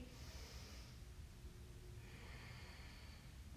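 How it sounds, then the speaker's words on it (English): Slow, deep breathing during a yoga fusion class, heard as a soft hissing inhale and then a long exhale, close and steady over low background noise. "Breathing here, nice and deep."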